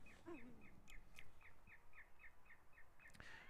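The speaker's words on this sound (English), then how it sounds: "That ground crew car is playing some bird noises to scare away any bird life." Sharp, evenly spaced recorded bird-like chirps played from an airport ground crew car to scare birds repeat about three times a second over a steady rumble of engines and wind, with a brief vocal squawk near the start.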